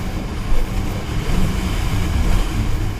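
A Sea-Doo Spark jet ski engine drones steadily on choppy waves, a low, rough rumble with slight surges in pitch as the throttle swells, mixed with wind and water noise throughout.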